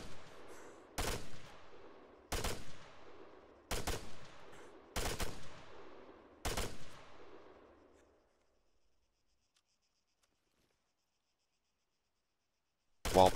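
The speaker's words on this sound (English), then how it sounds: "While crouching, this weapon becomes much more accurate burst firing" An MX 6.5mm assault rifle in Arma 3 fires five sharp, evenly spaced bursts, each trailing a short echoing tail, followed by several seconds of near silence and a final abrupt shot.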